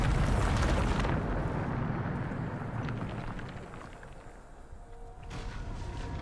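A Bombarda spell blast in Hogwarts Legacy opens with a loud, broad roaring burst. It decays into a rumbling tail with faint debris-like rattles and a smaller second swell near the end, with no voice heard.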